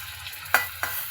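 Sliced onions and slit green chilies hitting hot oil in a pan, two quick sharp sizzling bursts close by, each trailing off into a soft hiss, with no talking.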